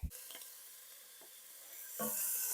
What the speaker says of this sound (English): I'm going to start by getting the bacon into the pan. I'm using my cast iron Dutch oven here, and it's on high.